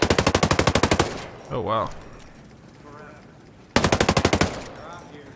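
Rapid bursts of VHSD2 rifle fire in Ghost Recon Breakpoint, two loud sustained volleys of evenly spaced shots separated by a quieter gap where someone briefly speaks.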